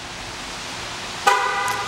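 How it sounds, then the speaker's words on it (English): A 2012 Cadillac CTS-V Coupe chirps once as it auto-locks, a single sharp beep heard nearby after a quiet stretch of faint background hum. "In about 5 to 10 seconds, it's going to beep."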